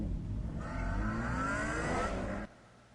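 A heavy car in the Telltale's Batman video game revs and accelerates, its engine pitch climbing as it grows louder, then cuts off abruptly near the end, leaving a low rumble.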